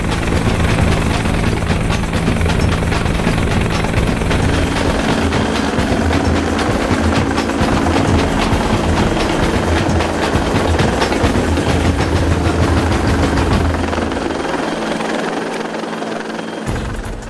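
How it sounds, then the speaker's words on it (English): Helicopter hovering low over a cruise ship during a hoist rescue, its rotor and engine roaring loudly and steadily close by, with rapid blade chop throughout. "As the helicopter nears the ship"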